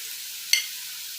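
A spoon scrapes once through banana flower curry with lentils in a pan, a single short stir over a soft, steady sizzle.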